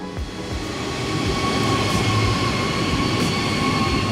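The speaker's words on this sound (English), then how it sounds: "I went to wait at platform 17 for the train to Dusseldorf Airport." A train bound for Düsseldorf Airport rumbles steadily through a station, with continuous low rolling noise and faint metallic tones, loud and close throughout.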